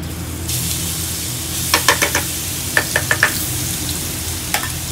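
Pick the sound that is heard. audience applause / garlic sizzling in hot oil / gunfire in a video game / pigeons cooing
garlic sizzling in hot oil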